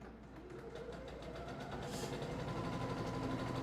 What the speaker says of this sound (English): So let's keep stitching.